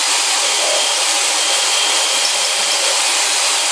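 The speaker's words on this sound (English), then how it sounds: "Now I've got the countersunk bit in the drill and I can countersink the" A drill fitted with a countersink bit spins into holes in a metal shoe storage unit, making a loud, steady whirring grind that holds at an even level throughout without pause.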